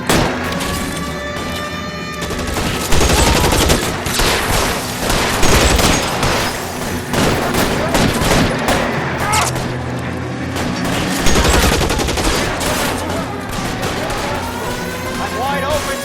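Sustained, dense gunfire from a shootout in the video game L.A. Noire, with rapid overlapping shots and booms at close range throughout, mixed with game sounds and shouted voices.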